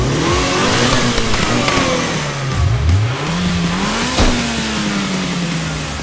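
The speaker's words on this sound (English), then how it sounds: "So we start racing. We are flying down the street." Cars in a BeamNG.Drive street drag race rev hard and accelerate loudly. The engines rise in pitch through each gear, drop at the shifts and climb again, close and continuous, with no talking.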